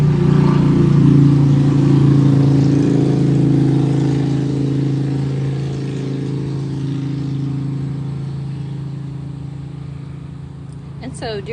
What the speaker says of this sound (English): There's a motorcycle passing.